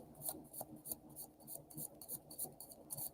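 Tarot cards are shuffled in rapid, rhythmic riffling bursts, close and quiet, with crisp papery flicks repeating several times a second and no talk.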